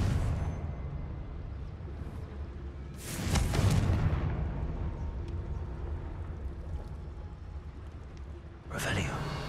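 A Confringo fire spell explodes in Hogwarts Legacy as a loud burst that fades into ambient game sound, followed by another sharp magical whoosh near the end.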